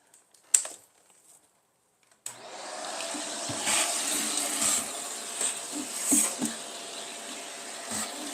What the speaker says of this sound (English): There's the vacuum.